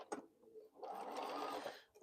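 A sewing machine runs one steady, even burst of stitching for about a second on a crumb lap quilt, fairly quiet, after a few soft handling taps, with no talking.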